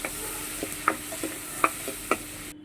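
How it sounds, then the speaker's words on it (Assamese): Small fish innards frying and being stirred in a pan, with a soft steady sizzle broken by several sharp clinks and scrapes of a utensil against the pan, close up and with no talk. "এয়া পেটুখিনি অলপ টাইম ভাজি ল'ম এইদৰে"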